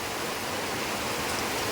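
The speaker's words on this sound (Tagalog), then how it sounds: "Lakas ng ulan. Inabot na ako ng ulan dito." Heavy rain pours down on a walk to a farm in the rural Philippines, a dense, constant hiss with no pauses, steady and loud throughout.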